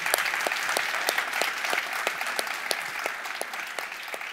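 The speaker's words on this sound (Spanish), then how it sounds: "Un aplauso fortísimo para Felipe" A conference audience applauds warmly and steadily after a talk, dense clapping with a few sharper individual claps standing out.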